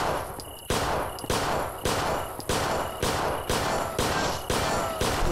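Gunfire in the zombie train shooter Zompiercer empties a whole magazine, eight sharp, loud shots at a steady rhythm roughly every half to two-thirds of a second, each with a short metallic ring and no talk.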